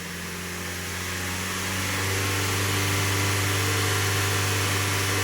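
A car engine under load testing holds a steady mid-pitched drone that swells as it climbs toward 3000 rpm, then stays loud and even, close by with no talk.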